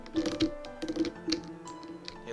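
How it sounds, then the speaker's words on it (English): Computer keyboard keys clatter right beside the microphone in quick, uneven bursts of close, crisp taps with brief pauses between, sounding loud and intimate. "my hands are right next to the microphone, clicking all the keys"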